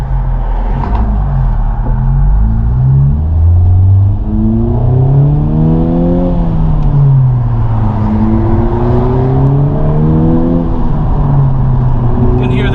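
A turbocharged 2021 Honda Civic Type R FK8 with aftermarket mufflers revs and accelerates through several rising pulls, the engine note climbing and dropping steadily, loud and close from inside the car.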